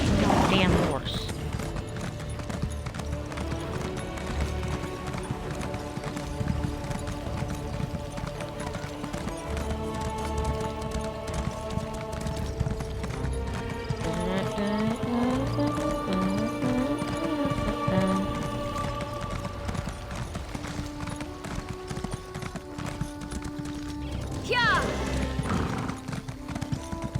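Horse hooves clip-clopping at a steady trot in the ESO online role-playing video game, with an occasional whinny, set against game music and a voice talking over much of it.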